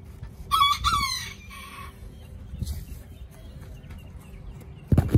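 A loud rooster crow rings out near the start, then faint clucking and scratching follow against quiet outdoor background, ending with a thump.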